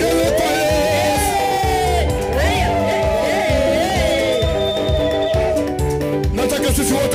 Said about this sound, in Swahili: Shangwe vigelegele kwa Yesu.